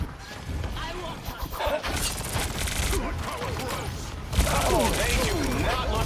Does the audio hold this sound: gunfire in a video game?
yes